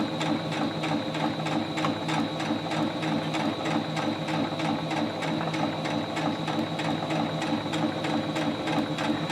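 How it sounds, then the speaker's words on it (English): A sewing machine runs steadily, stitching along one side of a fabric square with a continuous rapid mechanical whir and needle clatter, alone with no talking. "Remember, sewing machines only sew in a straight line."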